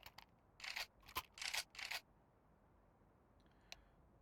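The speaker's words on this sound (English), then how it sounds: "I'm seeing some movement. I'm hearing some typing." Keys clatter in a few quick, quiet bursts of typing on a keyboard at an esports tournament venue, then give way to near silence with one faint click.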